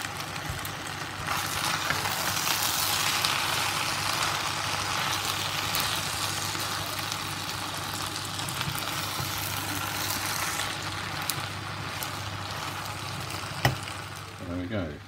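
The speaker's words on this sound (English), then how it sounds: "pretty much stir fry done, just cooking through for the bean sprouts to cook through" Beef, edamame and bean sprouts sizzle steadily in a hot pan as a stir fry, a close, continuous frying hiss with a few clinks near the end.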